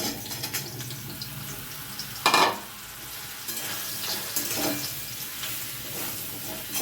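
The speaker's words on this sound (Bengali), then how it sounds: "এবারে ওই তেলের মধ্যে মাশরুমগুলো ছেড়ে দিচ্ছি।" Mushrooms frying in white oil in a pan make a steady, close sizzle with stirring scrapes. A brief louder hiss marks a stir or toss early on, then the frying carries on evenly, with no talk.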